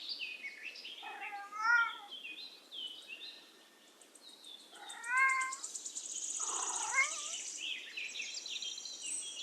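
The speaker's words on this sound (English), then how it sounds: "Cat." A cat meows three times, each call rising and falling, fairly close, while birds chirp and tweet softly behind it.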